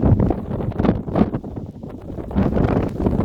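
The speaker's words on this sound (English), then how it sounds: "The wind is blowing me." Strong wind buffeting a microphone while climbing a high exposed edge, a steady loud rumbling roar that swells and gusts throughout with no clear talking.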